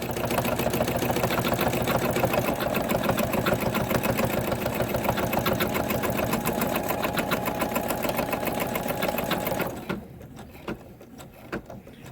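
A sewing machine stitches an in-the-hoop snow globe Christmas ornament at reduced speed, a steady, rapid, close mechanical whir and needle patter running for about ten seconds before it stops and leaves a quiet room.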